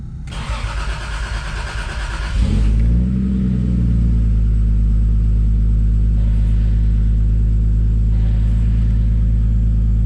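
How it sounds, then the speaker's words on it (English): A Toyota Supra MK3 with a 7M-GTE engine cranks briefly, catches with a loud roar, then settles into a deep, steady rumbling idle up close. "it's a really deep rumble that this car makes."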